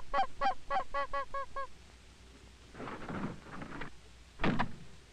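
Canada geese honking in a quick burst of about seven close, nasal calls, followed by a low rumble and a couple of heavy thuds.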